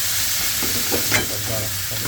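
Chicken pieces sizzle steadily in hot oil in a pan for a Japanese-style stew, a close, continuous frying hiss with occasional stirring clatter.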